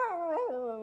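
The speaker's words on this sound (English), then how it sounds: "Dear me, it's a dog." A dog lets out one close, clear howl with a wavering, bending pitch that slides down and fades within a second.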